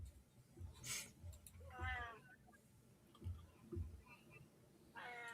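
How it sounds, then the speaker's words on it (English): A cat meows several times, short rising cries at moderate distance, mixed with soft murmured voices and low thumps in a quiet room. "Yeah, it was a kitty cat."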